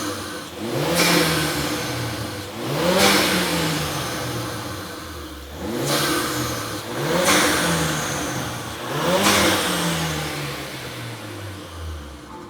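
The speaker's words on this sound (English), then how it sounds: "It's like proper induction, proper turbo noises." Turbocharged Ford Focus RS engine revving hard in repeated bursts, each climbing then falling away with induction whoosh and turbo noise, loud and close with no talking.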